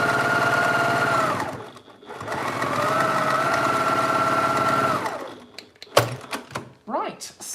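Domestic sewing machine stitching a fabric project bag, running in two long steady whirring bursts with a brief pause between, then stopping, followed by quieter handling clatter of fabric and machine parts.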